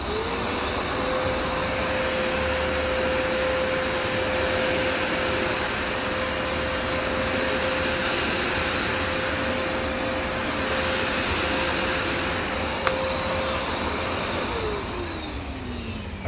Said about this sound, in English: Now, motor runs.